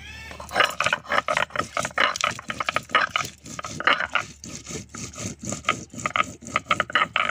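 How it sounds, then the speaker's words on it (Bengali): Dried chili and spices being ground on a stone, a rhythmic series of rough scraping rubs repeating steadily back and forth, close and clear with no talking. "শুকনো লঙ্কাটা বেটে নেব।"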